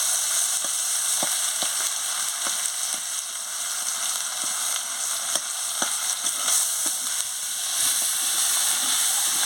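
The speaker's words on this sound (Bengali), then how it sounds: "দিয়ে মশলাটাকে ভালো করে কষিয়ে নিচ্ছি।" Spice paste with turmeric and chili powder frying in a pan for a curry: a steady, bright sizzle runs throughout, with scattered soft clicks and scrapes of stirring, close and alone without talk.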